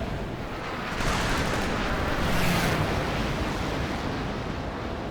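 Jet cannon fire from an F2H-2 Banshee in the War Thunder air battle game, a dense continuous roaring rumble that swells around the middle and stays loud and steady throughout, with no talking.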